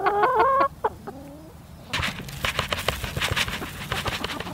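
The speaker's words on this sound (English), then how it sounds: "the chickens greet me ready to be fed" Homestead chickens on a crisp fall morning cluck and call near at hand, starting with a loud run of clucks, then several birds scratching and clucking together in a busy, close flock.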